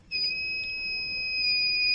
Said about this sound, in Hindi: तो यहाँ पे आप सभी देख सकते हो हमारा अलार्म ऑन हो गया है।